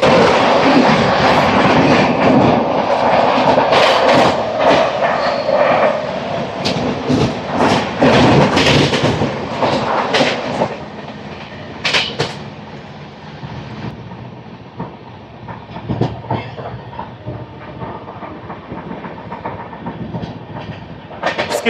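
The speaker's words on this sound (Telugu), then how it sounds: "Double 2871 Bhubaneswar Tirupati weekly super fast express." The Bhubaneswar–Tirupati weekly superfast express rushes past close by, a loud roar and rapid clickety-clack of wheels on rail joints with sharp metallic bangs, easing to a lighter rhythmic rattle as the coaches pass.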